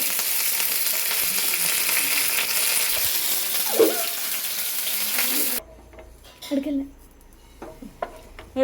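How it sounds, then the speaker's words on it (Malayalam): Curry leaves and dried red chillies fry in hot coconut oil with a loud, steady sizzle for about five seconds, then it cuts to a quieter scene with a few clinks and soft stirring. "ഈ വെളിച്ചെണ്ണേൻ്റെ അകത്തേക്ക് നമുക്ക് കറിവേപ്പിലയും നമ്മുടെ വറ്റൽമുളകും ഇട്ട് കൊടുക്കാം"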